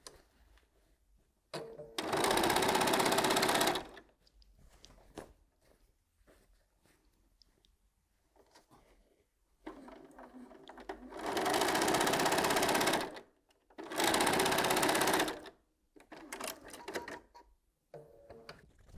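A sewing machine stitches across the corners of a project bag lining in three loud, steady bursts of rapid whirring, separated by quiet pauses with faint handling sounds.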